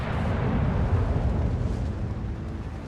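Battleship main guns firing shells in the naval game World of Warships Legends, a continuous loud, booming rumble that fills the whole moment with no speech over it.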